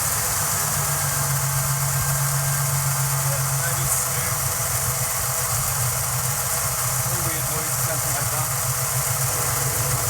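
A 1995 Ford Mustang engine idles steadily and evenly, a constant low hum with a faint high whine on top, close and unchanging for the whole stretch.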